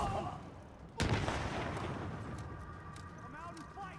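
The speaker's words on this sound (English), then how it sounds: "Grenade out!" A grenade explosion in the video game Tom Clancy's The Division lands as one sudden sharp boom, then a rumbling decay under game noise, with a voice faintly audible near the end.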